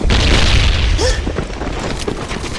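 A grenade detonates in the online shooter Mercenary Online during a clan-war match, a loud low boom at the start that rolls off into rumble while gunfire-like bursts and a brief shouted voice continue.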